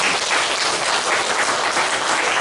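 A church congregation applauds during a worship service, a loud, dense burst of many hands clapping together, close and continuous.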